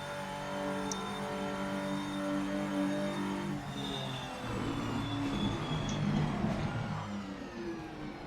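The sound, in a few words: race car engine on wet track, racing video game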